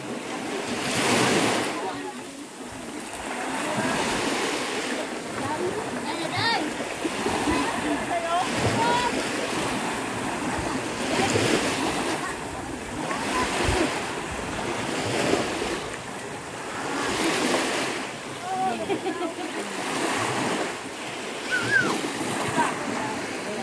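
Sea waves roll onto the shore at a beach resort in Anda, Bohol, surging and fading in repeated swells against steady wind noise, with people talking faintly now and then.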